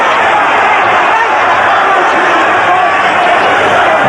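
A loud boxing match crowd roars continuously in a packed arena, a dense, unbroken wall of cheering and shouting with no pauses across the whole span.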